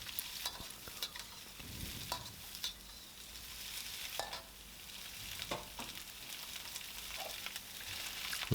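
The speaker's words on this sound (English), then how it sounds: "give it a really quick stir fry of about a minute" Long green chillis are stir-fried in a wok, a soft sizzle punctuated by repeated clacks and scrapes of the spatula against the metal, fairly quiet and close.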